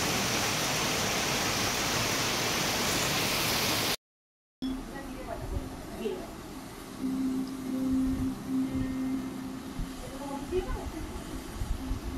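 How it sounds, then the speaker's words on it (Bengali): Heavy rain pours in a dense, loud roar for several seconds, then cuts off; afterwards a quieter indoor space holds faint scattered clatter. "এই বৃষ্টিটা হচ্ছে দেখুন, বাপরে বাপ।"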